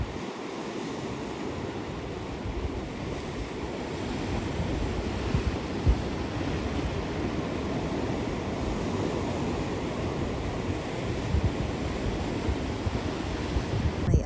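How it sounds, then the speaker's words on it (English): Surf on the rocky Maine coast near a lighthouse roars as a steady, close wash of breaking waves, with wind noise over the microphone and no clear bird calls. "I'm just enjoying the sound of the waves crashing and the seagulls."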